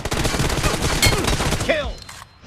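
Rapid bursts of gunfire fill a first-person shooter match, dense and loud throughout before tapering off near the end.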